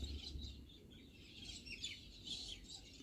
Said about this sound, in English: This is galah fighting.